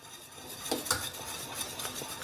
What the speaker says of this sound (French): et on tourne, comme pour une crème pâtissière